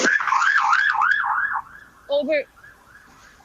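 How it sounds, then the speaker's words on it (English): A warbling ambulance siren rises and falls loudly during street protests in downtown Beirut, then fades, followed by two short honks; a voice speaks briefly. "here we have actually another ambulance"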